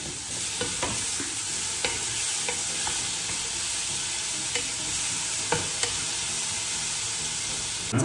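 Onion masala for egg curry fries in a pan with a constant loud hissing sizzle, broken by regular clicks and scrapes of stirring.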